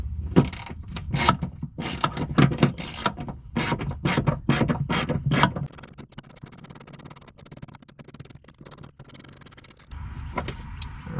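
A ratchet works on 11 mm side bumper bolts of a 1999–2004 Ford Mustang, giving a close series of sharp, rapid clicking bursts in the first half, followed by quieter fiddling and faint rattles.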